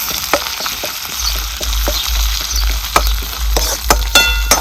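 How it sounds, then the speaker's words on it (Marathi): Curry leaves frying in hot oil for ghute, a loud, close sizzle with sharp spitting pops and crackles over a steady low hum, no voices present. "कढीपत्ता सुद्धा आपल्याला तेलात चांगला असा भाजून घ्यायचा आहे"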